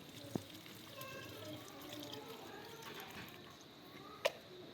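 Faint water trickles and pours quietly and steadily into the soil around a tree, with a couple of soft clicks standing out.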